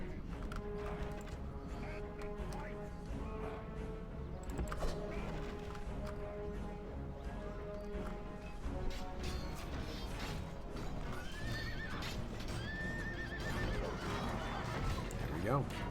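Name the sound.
horse archers' horses riding in video game Fourth Age Rhun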